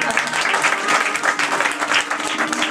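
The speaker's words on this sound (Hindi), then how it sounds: "इसके लिए तालियां दीजिए।" Audience applause at a classical Indian raag concert, a sustained burst of many hands clapping at close range, steady and lively throughout.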